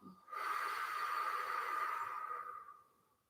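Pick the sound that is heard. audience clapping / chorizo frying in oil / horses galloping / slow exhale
slow exhale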